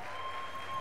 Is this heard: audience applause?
yes